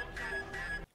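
Electronic beeping from a scene in the Halo TV series: a steady, high, shrill tone held over dense background sound, cutting off abruptly near the end.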